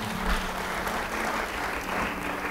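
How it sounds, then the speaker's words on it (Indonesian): Church congregation clapping during a sermon, a continuous full wash of applause at a steady level, with a faint low tone sustained beneath it. "Kalau saudara mau beri tepuk tangan yang baik"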